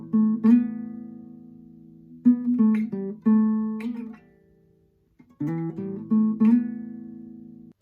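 An acoustic guitar plays the opening sections of a song, live version, fingerpicked chords and single notes in bursts with ringing sustain and a brief pause, close and unaccompanied.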